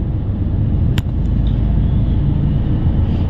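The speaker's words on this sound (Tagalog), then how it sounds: "Grabe ka traffic ang Cagayan mga kabro." Heavy road traffic in Cagayan de Oro city, a constant loud rumble of passing vehicles with no break and one brief sharp click partway through.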